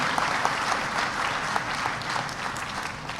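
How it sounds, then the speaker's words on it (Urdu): Audience at a Labor Department program in Faisalabad breaks into loud, dense applause, steady clapping from a sizable crowd filling the moment without speech. "بھرپور تالیاں۔"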